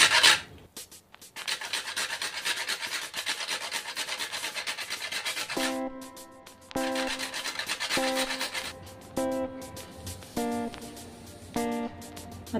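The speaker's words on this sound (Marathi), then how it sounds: "तर थोडंसं जायफळ सुद्धा आपण किसून घेऊया।" Whole nutmeg grated by hand for a plum cake batter, a dry rhythmic rasping of many quick strokes that pause briefly now and then, close and steady, with soft background music carrying tonal notes.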